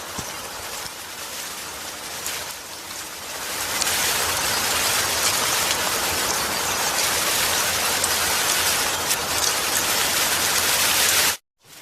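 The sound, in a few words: heavy rain falling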